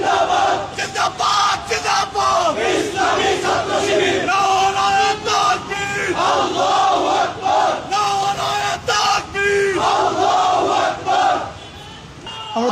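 A crowd of Shibir students marches in a street protest procession in Dhaka, chanting slogans loudly in rhythmic, repeated call-and-response bursts that fill the whole stretch and ease off only at the end.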